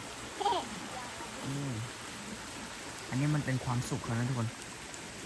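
Steady hiss of heavy rain falling by a stream, with a few short bursts of a child and an adult talking over it.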